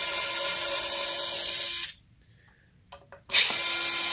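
A screwdriver backing the screws out of a Strymon pedal's back plate: a steady, loud whirring buzz that stops for over a second, gives a few faint rattles, then starts again. Nobody speaks.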